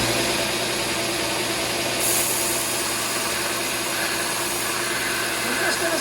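A Porter Cable precision plate sander running on a 600 volt supply hums and whirs steadily and loudly at close range, with a continuous grinding buzz and no voices.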